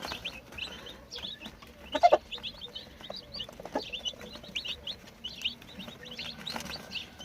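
A hen and her chicks cluck and peep while being fed, soft clucks mixed with many rapid high chirps, fairly close, with a few louder knocks and rustles.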